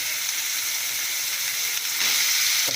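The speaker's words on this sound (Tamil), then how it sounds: "கால் கருவேப்பிலை நல்லா வதங்கட்டும்" Curry leaves sautéing in a pan for vegetable kurma, a steady moderate sizzle and hiss that swells louder near the end, with no talking.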